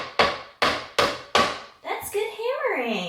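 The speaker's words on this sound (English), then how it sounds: "That's good hammering." A toddler taps nails with a toy hammer, giving four sharp, evenly spaced knocks close by, followed by a voice chattering.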